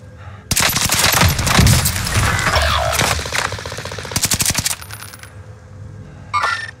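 Rapid bursts of gunfire from Call of Duty Vanguard Warzone on Rebirth Island, loud and close, with machine-gun rattles and single shots packed over several seconds, then a brief sharp burst near the end.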